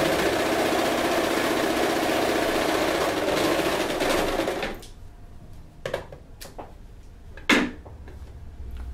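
An Elgin Genius sewing machine stitching, a steady fast mechanical whir and rattle that runs for several seconds, then cuts out, leaving soft handling clicks and a sharp tap.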